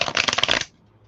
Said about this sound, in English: If you're hearing the clashing of cards, that's because I'm actually shuffling.